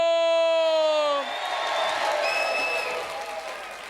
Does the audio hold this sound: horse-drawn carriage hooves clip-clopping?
no